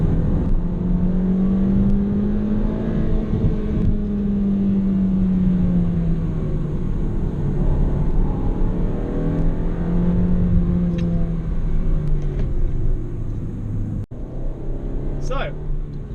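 A car climbs a hill heading back towards Galston, its engine a steady droning hum that rises and falls gently in pitch as it pulls along the road.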